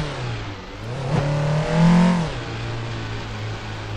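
A Lada rally car in the Assetto Corsa racing game revs, its engine tone rising in a loud surge and then falling back to a steady mid-pitched drone, with no talk.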